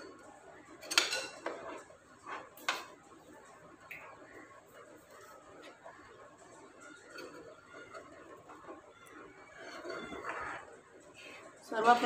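A spoon stirring saffron-coloured milk in a pot for rasmalai, soft scraping and occasional metallic clinks against the pot, quiet and close, with someone talking over it.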